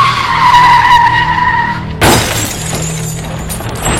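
A motorbike accident carrying three riders: engine and tire skid for about two seconds, then a sudden loud crash with shattering debris that fades out.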